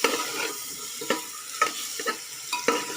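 Valor beans and potatoes stirred in a hot spiced tempering: a soft sizzle beneath repeated scraping strokes of a spoon against the pan, several distinct stirs in a few seconds, no talk.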